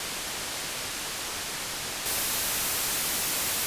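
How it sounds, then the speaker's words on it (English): Noise source of the Behringer Vintage synth plugin, an Ableton analog-clone, hisses through its resonant filter, a steady broadband rush that suddenly brightens partway through, continuous and loud with no talking. "Now let's listen to the resonance, and I'll use the noise source instead."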